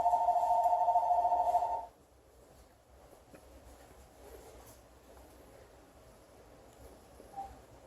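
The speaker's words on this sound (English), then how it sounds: "And of course the phone rings." A telephone rings loudly and steadily for about two seconds, then stops, leaving quiet room tone during a home soap-making session.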